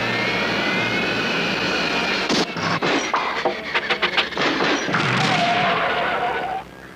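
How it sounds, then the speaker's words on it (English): A cartoon airplane roars steadily with jet-like engine noise as it tries to take off from a runway, broken by a cluster of thumps and clanks midway before the engine drone resumes and then cuts off. "Flight 208, you are clear for takeoff on runway 7."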